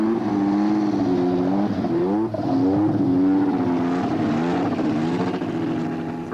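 A Cosworth V6 turbo Formula One engine from the 1986 season runs steadily on a cold day, its loud, continuous drone rising and falling slightly in pitch throughout.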